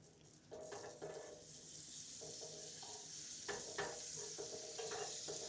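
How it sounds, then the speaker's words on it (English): Food sizzles in a pan during home cooking while a utensil stirs and scrapes in several bursts, a close and steady frying hiss with no talk. "I'm assuming the sizzling sounds you're getting are sort of like ASMR"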